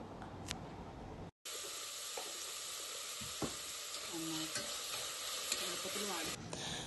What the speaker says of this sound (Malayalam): ഒരു നുള്ളുപ്പ്, 1/4 ടീസ്പൂൺ മഞ്ഞൾപ്പൊടി ചേർത്ത് നന്നായി വഴറ്റുക